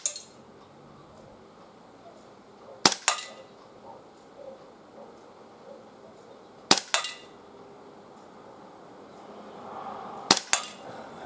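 Gletcher Luger P08 blowback BB pistol fired at targets 12.5 metres away, three sharp cracks spaced a few seconds apart, each with a quick metallic clack of the action, in a quiet setting.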